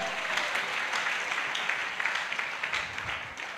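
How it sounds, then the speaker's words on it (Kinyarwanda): A church congregation applauds God during a worship service at an ADEPR church, steady many-handed clapping heard at moderate distance, continuing evenly throughout with a few sharper bursts. "Ongera umera Imana amashyi"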